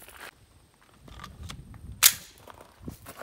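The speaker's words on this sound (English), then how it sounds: "we'll let the old man do some slow fire just to see if he can bring his group up" A single sharp report from a Sig Sauer P320 9mm pistol fired slow at an outdoor range, one loud crack standing out over quiet background noise.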